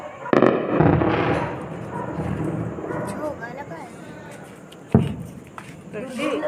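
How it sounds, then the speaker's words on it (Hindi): Explosions at night in Samba, with sharp bangs at the start and again near the end, crackling reports and a dog barking, people talking over it. "सांबा के अंदर भी जबरदस्त धमाके की आवाज आई"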